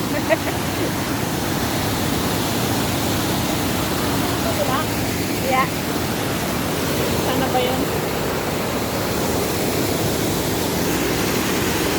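Murky water after rain flowing steadily, a broad continuous rushing noise at close range, with people speaking briefly over it.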